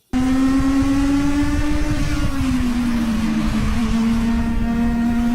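A legend race car's engine roars loud and steady at a sustained high pitch, a single continuous drone from start to finish with no talk over it.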